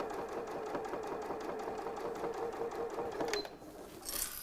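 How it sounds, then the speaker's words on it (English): A sewing machine runs steadily, stitching binding onto a quilt with a rapid, even mechanical rhythm close to the mic, then stops and gives way to a brief rustle. "the machine stitching the binding"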